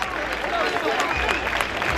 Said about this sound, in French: Port-Gentil, est-ce qu'on va applaudir très fort pour notre marraine?